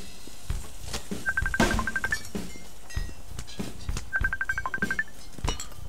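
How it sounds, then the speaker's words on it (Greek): A phone rings in the video game Paint The Town Red, two bursts of a rapid electronic trilling ring separated by a pause, set against scattered thuds and faint game noise. "Κάποιος μου παίρνει τηλέφωνο"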